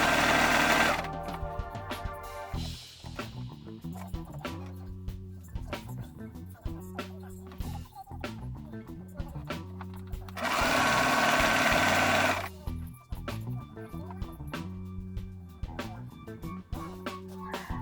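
A sewing machine stitches the seams of a dress made from an IKEA duvet cover. Its motor runs in repeated bursts, with short pauses between runs and one louder, steadier stretch near the end. No one speaks.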